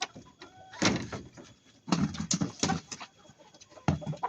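Native chickens cluck and squawk up close while they are being dewormed. The clucks come in short, loud bursts, with quieter shuffling and handling noises between them.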